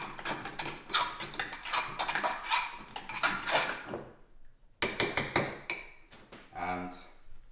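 A spoon stirs food in a dish while preparing a meal, giving a quick run of clinking, scraping taps, then a short pause, a few more clinks and a voice near the end.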